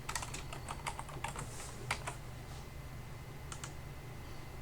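Close computer keyboard typing: quick bursts of light key clicks in the first two seconds, a pause, then a last short flurry over a faint steady hum, no voices.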